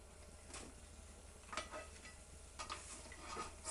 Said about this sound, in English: I'm going to need 2 spatulas to get this out of the pan